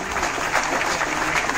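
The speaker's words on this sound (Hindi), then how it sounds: "फिर से एक बार सर के लिए फिर से एक जोरदार तालियां।" A business seminar audience in Mumbai gives dense, steady applause, a loud continuous wash of clapping with a faint murmur of voices.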